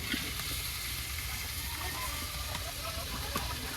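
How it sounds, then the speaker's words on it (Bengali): Sliced potatoes frying in oil in a karahi in a village kitchen give off a steady, close, even sizzle that holds without pause. "এটা আলু ভাজা বওয়াই দেই।"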